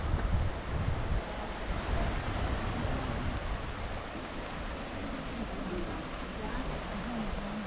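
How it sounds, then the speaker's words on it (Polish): Steady rushing tidal current water in Norway roars continuously, flowing like a river at up to 38 km/h, with a broad wash of noise and some wind buffeting the microphone throughout. "Zapierdziela woda jak na rzece."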